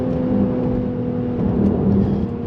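Engine of a Mercedes-AMG GLC 43 Coupe under light throttle, a steady droning hum with a mild rise, heard from inside the cabin.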